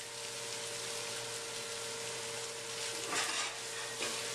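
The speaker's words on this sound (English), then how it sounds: "As soon as I stir all this cheese in here, it's all melted." Cheese being stirred into an empanada meat filling in a hot pan gives a steady close sizzle with soft scraping stir strokes, brief louder scrapes near the end, no talking.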